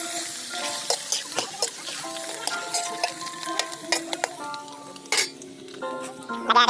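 Chopped onion sizzles and crackles in a hot pan while being stirred for paklay, with scraping and light clinks of a utensil against the pan throughout.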